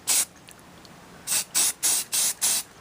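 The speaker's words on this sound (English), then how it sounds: "so I have a space under there where I can spray and cover that as well" A 1936 Airline 62-198 radio chassis gets spray painted, one short aerosol burst followed by five quick, evenly spaced loud hissing spurts close up, with quiet pauses between them and no talk.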